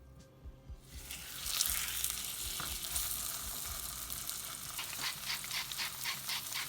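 Beef brisket hits a hot pan and sets off a loud, bright sizzle that swells after a quiet first second and keeps crackling steadily, with scattered pops and a faint metallic scrape near the end.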